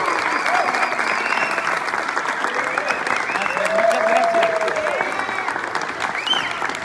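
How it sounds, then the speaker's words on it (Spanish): Steady applause from the audience at a press presentation of the cast of the play "Perfume de Gardenias", a dense wash of clapping lasting throughout with a few voices and cheers mixed in. "Quiero que le brindemos un fuerte aplauso a nuestro productor, Omar Suárez."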